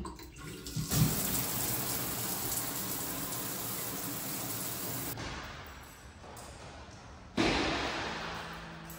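Water from a home shower runs in a steady, moderately loud hiss, briefly interrupted by a few soft knocks and a pause before the spray resumes.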